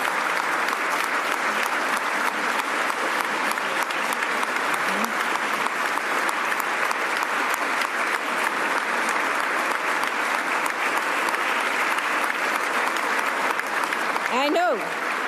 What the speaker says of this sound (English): Otis is clapping.